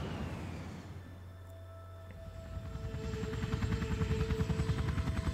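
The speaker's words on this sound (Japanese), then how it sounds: "カプコン製のヘリ。" A helicopter in the Resident Evil 3 remake video game, its rotor chop rising from a low drone into a loud, rapid, steady thumping that builds toward the end.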